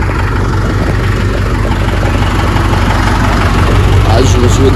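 A tractor's diesel engine runs at a steady, loud, low throbbing idle close by, with someone talking over it.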